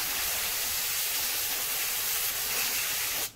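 Water sprays steadily to rinse cleaning product and loosened grime off a surface, a loud, continuous broadband hiss that stays even for about three seconds, then cuts off abruptly at the end.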